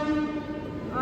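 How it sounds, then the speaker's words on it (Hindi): An arriving train sounds its horn at a station platform, a brief, sustained tonal blast heard at moderate distance over background station noise. "और इसने हॉर्न मार के सबको बता दिया कि हाँ आ गई है।"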